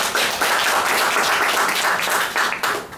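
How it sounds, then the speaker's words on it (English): A crowd at a club meeting applauds loudly and continuously, dense clapping filling the whole stretch without pause. "let's give them a round of applause"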